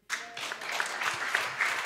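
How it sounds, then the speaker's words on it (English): Church congregation at an Easter service bursting into applause to welcome visitors, a sudden onset of many hands clapping together, loud and sustained throughout. "we all give them a clap for welcome"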